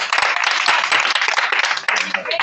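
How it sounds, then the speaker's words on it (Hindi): Audience in a village gathering in Banmalipur Sarak, Odisha, clapping together in welcome on the last day of a camp program; steady, dense applause running throughout, with a voice briefly heard over it. "हम ऐसी सरस्वती मैडम के लिए सब ताली बजाकर स्वागत करेंगे"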